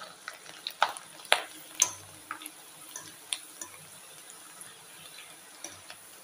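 Rice papads frying in hot oil in a home kitchen, faint sizzling with a few sharp crackles and scraping stirs of a utensil spread unevenly through an otherwise quiet stretch.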